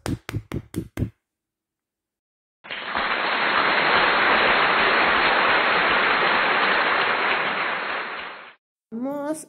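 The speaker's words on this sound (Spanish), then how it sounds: "¡Aplausos!" Sustained clapping from a small group, a dense even patter that runs for about six seconds, loud and close, with short bursts of talk just before and after it.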